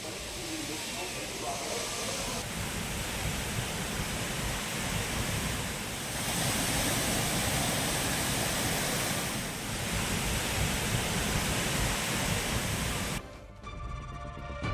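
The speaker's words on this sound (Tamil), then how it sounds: "குற்றாலம் மெயினருவி, ஐந்தருவி, பழைய குற்றால அருவி உள்ளிட்ட அனைத்து அருவிகளிலும் தண்ணீர் ஆர்ப்பரித்து கொட்டுகிறது" Water gushing down the Courtallam waterfalls, including the Main Falls, Five Falls and Old Courtallam Falls, a dense, steady roar of pouring water that continues unbroken for most of the stretch before cutting off near the end.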